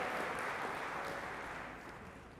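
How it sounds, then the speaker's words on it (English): An audience at a real estate agent rally gives a round of applause, a faint, distant wash of dense clapping that gradually fades toward the end. "How about a round of applause for showing up?"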